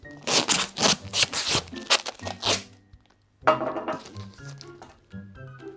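Tape being pulled off a roll and wrapped around a hand, with close crinkly ripping and sticky peeling sounds in two bursts separated by a short quiet gap.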